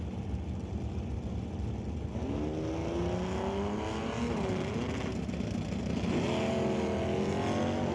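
Stock-class drag race cars roar at a drag strip, with engines rising in pitch as they launch and pull away, steady and loud throughout.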